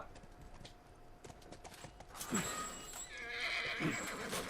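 A horse in The Last of Us video game neighs twice in loud, shrill whinnies, while hooves clip-clop softly beneath and keyboard tapping sounds in the background.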